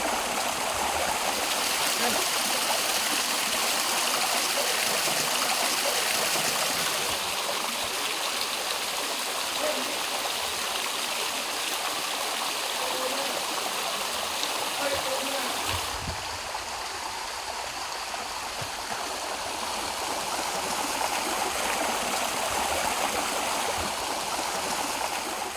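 The Wa Amdep river runs over boulders in rainforest near the village of Padu, a steady rushing and gurgling wash of water that stays even and full throughout, fairly close, with no clear voices.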